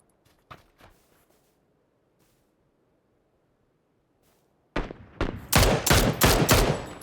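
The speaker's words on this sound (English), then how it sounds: "Huge headshot from Noobs with the Mini 14 there" Mini 14 rifle fire in a competitive battle-royale video game match: after a few faint shots and near-silence, a sudden burst of loud, rapid cracking gunshots erupts and continues close up.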